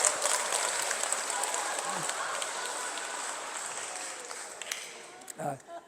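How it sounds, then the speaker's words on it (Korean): A Catholic parish congregation at a mission talk claps together in a dense, steady patter of many hands that gradually thins out, with a few brief voice sounds near the end. "박수 한번 쳐드립시다"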